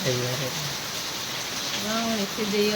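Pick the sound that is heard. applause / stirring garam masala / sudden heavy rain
sudden heavy rain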